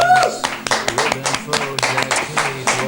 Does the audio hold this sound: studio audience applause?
yes